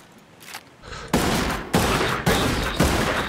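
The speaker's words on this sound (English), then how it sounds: "I hear unsuppressed enemy fire." Bursts of unsuppressed gunfire in Ghost Recon Breakpoint PvP, several loud sharp volleys in quick succession after a quieter start, with crackling echo between shots.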